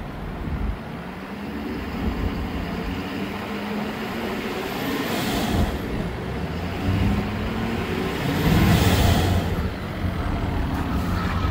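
The diesel engine of a 2016 Ford F-550 4x4 Versalift bucket truck idles and runs, a loud steady low rumble that swells slightly, heard alone without talk.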